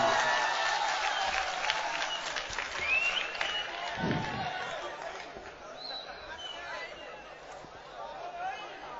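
Applause and crowd chatter rise from an audience welcoming the humorous poet Rafiq Gadbad at an all-India mushaira in Lohta, a steady mass of clapping mixed with murmuring voices that runs throughout.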